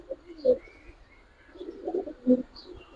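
Giribaz and coloured pigeons give a few short, soft coos in quick succession, faint and close.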